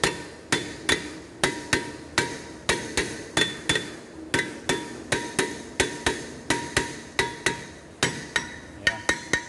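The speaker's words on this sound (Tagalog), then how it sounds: "pwede rin natin paluin lang ng martilyo kung makukuha siya" A hammer strikes a car's brake rotor over and over in a steady rhythm to knock it off, each blow loud and ringing, about two dozen hits with no talking.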